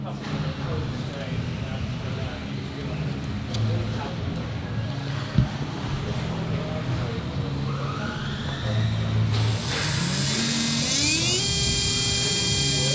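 A Hobbywing brushless RC car motor in stock racing trim whines steadily at high RPM on a test setup, its pitch climbing near the end, while people talk over it throughout.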